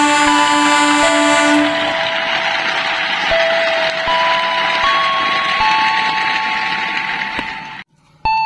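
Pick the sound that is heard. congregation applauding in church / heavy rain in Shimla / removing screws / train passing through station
train passing through station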